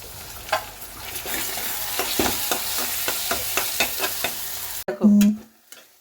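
Turmeric and salted spices for fish curry fry in hot oil in a pan, a close sizzle broken by a regular run of spatula scrapes that stops abruptly near the end.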